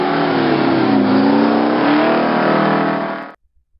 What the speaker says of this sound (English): The combination of the two-stroke firing pattern and the mechanical supercharger created a unique exhaust note that became known as the Screamin' Jimmy.